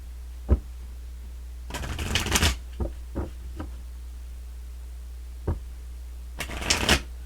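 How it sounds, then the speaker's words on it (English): Tarot cards are shuffled in a quiet room, with a few short riffling bursts and soft taps separated by pauses. "So let's go ahead and get some more cards."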